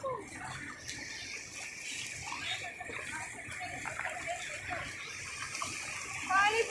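Steady rushing river water with splashing as legs drag through the current, continuous and close, with voices talking faintly over it.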